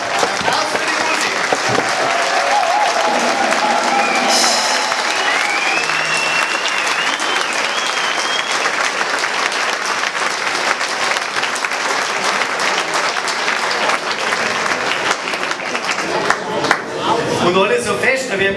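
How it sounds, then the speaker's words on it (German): Audience applause for the band at a political Lenten sermon event in a hall, loud sustained clapping from a large crowd running throughout, with brief voices and shouts rising in places. "Applaus für die Musik."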